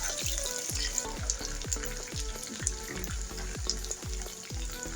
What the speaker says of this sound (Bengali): আমি চিকেনটা ভাজা অবস্থাতে চুলার হিটটা হাই হিটে রেখে দেব